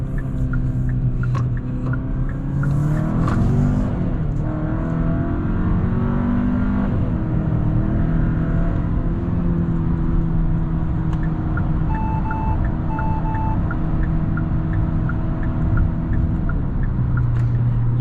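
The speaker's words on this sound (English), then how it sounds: "it is a very nice responsive engine" A 2022 Hyundai Santa Cruz engine pulls steadily under acceleration, a continuous low drone heard from inside the cab with a few faint electronic chimes overhead.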